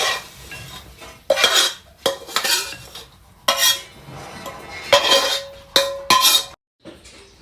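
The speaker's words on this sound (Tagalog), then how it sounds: "Stir fry garlic stem with salted beans" A spatula scrapes and clanks against a wok as garlic stems are stir-fried with salted beans, in repeated bursts of metallic stirring separated by short pauses, close and fairly loud.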